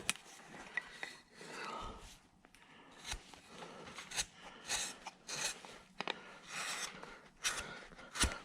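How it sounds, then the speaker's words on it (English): A number 9 gouge, about 10 millimeters wide, pares wood by hand while a farmer figure is carved from a block. It makes a series of quiet, close scraping and shaving strokes in an irregular rhythm with brief pauses. "I am going to take a number 9 gouge, about a 10 millimeter, and I'm going to start working in here where that neck will be"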